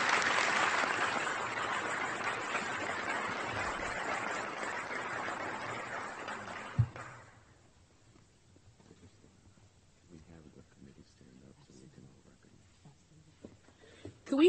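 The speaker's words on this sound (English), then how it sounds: "another round of applause for Dr." A crowd at a plaque unveiling event claps for about seven seconds, a full, even wash of applause that cuts off. Faint murmurs and small movements follow in a quiet room.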